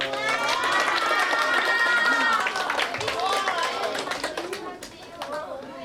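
An audience of schoolchildren and parents at an elementary school ASMR music drama presentation claps for the foley artists, a dense patter of applause with chatter that thins out toward the end.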